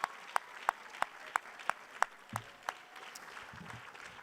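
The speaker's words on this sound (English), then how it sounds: "Another round of applause for our 2020 Hall of Fame inductees." Sparse, rhythmic applause at a 2020 Hall of Fame banquet honoring inductees, a handful of sharp, evenly spaced claps sounding in a quiet room, trailing off toward the end.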